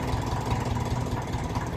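Diesel engine of a 1954 Ferguson 20 TEF tractor ticking over at a steady, even idle, a close, loud, level low rumble with no hunting in the revs.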